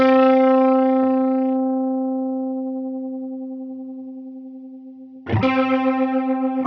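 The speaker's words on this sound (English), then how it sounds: "You can hear that the pitch modulating really quickly." A guitar note through a Line 6 Helix chorus with the depth raised rings long and wavering, its pitch modulating quickly as it slowly decays, before a second chord strikes loud near the end and shimmers on.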